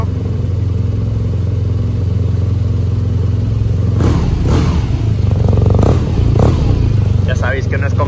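Cafe Racer SSpirit motorcycle engine idling, then given a few light, brief throttle blips up to about 3000 rpm, loud and close, with short rising bursts over a steady idle.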